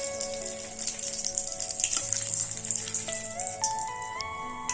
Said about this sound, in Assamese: এতিয়া মই তেলখিনিত তেজপাত দি ল'ম।